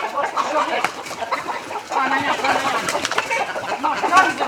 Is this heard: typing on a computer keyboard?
no